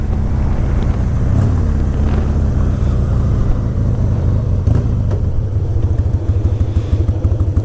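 Harley-Davidson Heritage Softail motorcycle engine running, a loud, close, continuous low rumble with a steady lumpy throb, alone with no speech.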